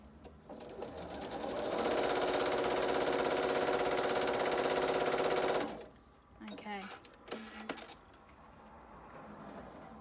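A sewing machine stitches the last seam of a quilt block, running steadily and loudly for about four seconds before stopping, followed by quieter handling sounds.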